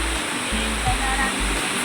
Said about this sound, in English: We have reached the shooting waterfall.